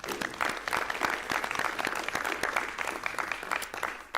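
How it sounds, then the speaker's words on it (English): Audience applause for band students at a school board of education meeting, a steady, fairly close clatter of many hands clapping continuously for several seconds. "If we could give a round of applause for all of our band students"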